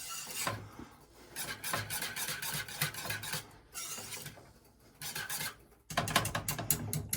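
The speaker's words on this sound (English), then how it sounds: "We don't want to over whisk it" A whisk scrapes and rasps steadily against a pot of thickening rum baba custard mixture off the heat, with brisk repeated strokes, a short pause midway and another burst of fast whisking at the end.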